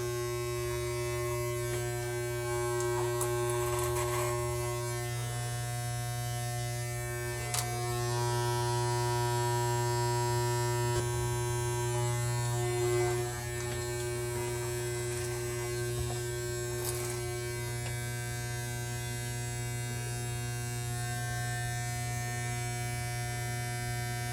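Electric hair clippers buzz steadily and close up with a strong mains-like hum as they trim hair, with occasional brief changes in tone as the blades move through it.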